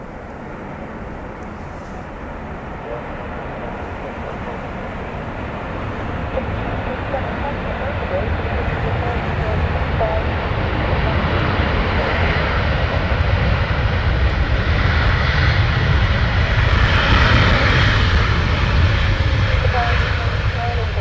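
A Qatar Airways airliner takes off on reduced D-flex thrust at Dublin Airport, its broad engine roar building steadily and staying loud throughout, with a voice speaking over it.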